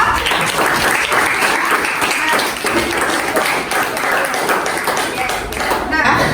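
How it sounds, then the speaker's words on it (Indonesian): Classroom applause for a student group during a lesson on food additives, loud close clapping from a small crowd of pupils, continuous and slightly uneven, with some chatter mixed in. "tepuk tangan dulu untuk kelompok 6"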